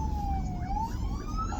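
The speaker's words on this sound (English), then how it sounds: "I don't know if they could hear the siren going." Police SUVs speed away with sirens wailing, the tone sliding up and down in a steady cycle over low traffic rumble. The sirens sound moderately distant and continue without pause through the short stretch.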